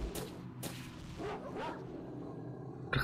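A dog in S.T.A.L.K.E.R. Shadow of Chernobyl gives a few short, sharp yips and barks, then a soft whimpering pass, close and moderately loud, with no talking.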